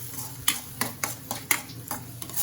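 Crab masala frying in a pan while being stirred, giving repeated scraping strokes about every half second over a soft steady sizzle, close and moderately loud.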